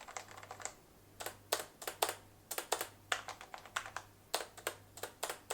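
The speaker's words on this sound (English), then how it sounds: "the space bar here has a totally different sound than all the other keys" Rapid typing on a low-profile mechanical keyboard with an aluminium top, crisp clicky keystrokes in quick uneven bursts, with the space bar giving a different, deeper clack from the other keys; close and clear with no talking.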